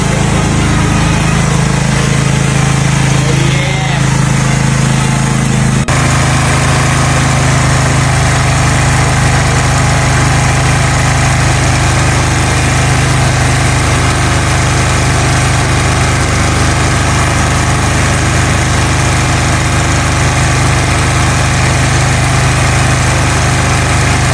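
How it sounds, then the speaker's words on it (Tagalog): A generator engine runs steadily and loud throughout, with a dense low hum and buzzing drone; the tone shifts slightly after the first few seconds, then holds constant at a busy work site. "Relax na relax yung generator natin."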